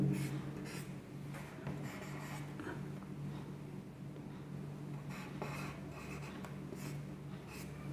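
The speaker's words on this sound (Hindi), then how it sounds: "मैं ही लिख देता हूँ" Marker or chalk strokes on a board while Urdu letters are written by hand, a run of short scratchy rubbing strokes with brief pauses, close and fairly quiet against a low steady room hum.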